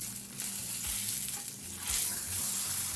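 A vegan bammy burger patty made with yuca and coconut milk fries in a pan after flipping, giving a steady close sizzle with soft low scraping thumps and no voices.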